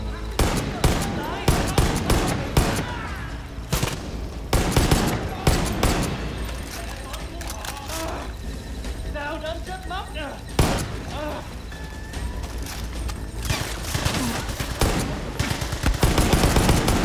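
Heavy weapon fire in Far Cry 5, a dense fusillade of gunshots in loud bursts of varying length, with a player talking over parts of it.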